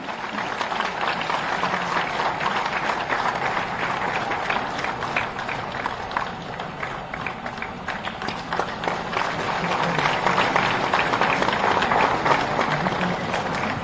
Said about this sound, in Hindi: एक बार सभी शिक्षकों के लिए तालियां।